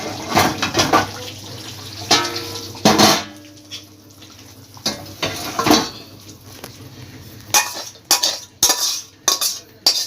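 Aar fish kalia being stirred in a pot: metal spoon scrapes and clinks against the pot, coming in bursts of clatter with quieter gaps between, close and fairly loud, with no talking.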